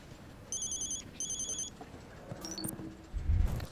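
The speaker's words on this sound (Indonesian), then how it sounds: "Maaf Pak, ini ada telepon masuk." A phone's electronic ringtone chirps in two short, bright trilling bursts, moderately loud, followed by quieter room sounds, a couple of thin beeps and a low bump.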